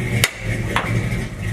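Two sharp metallic hammer blows land about half a second apart on a stuck Dodge Challenger drum brake, ringing out over a steady low engine-like hum.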